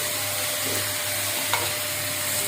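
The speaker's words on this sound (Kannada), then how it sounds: "ಅದರಲ್ಲಿ ಹೆಚ್ಚಿದ ಕುಂಬಳಕಾಯಿಯನ್ನು ಬೆರೆಸಿಕೊಳ್ಳಬೇಕು." A steady sizzle of hot oil tempering with a soft scrape of chopped pumpkin being stirred in, close by and fairly quiet, with no talking.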